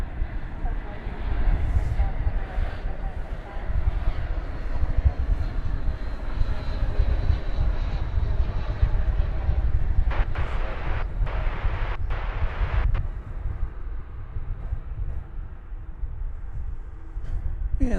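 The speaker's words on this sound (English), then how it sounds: "our next arrival is coming in from San Diego, California," An Airbus A321 arriving from San Diego at Dallas Fort Worth airport, heard as a steady broadband jet engine roar with wind rumble throughout, a few sharp clicks partway through, and talk in the background.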